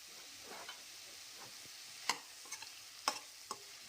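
Fried potatoes with masala are stirred in a pan over a quiet sizzle, with several sharp spoon taps and scrapes against the metal, close and distinct, and no voices.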